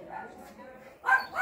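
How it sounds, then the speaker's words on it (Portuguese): A small, agitated dog gives a few short yappy barks nearby, mixed in with people talking in a home. "O cachorrinho tá bem nervoso,"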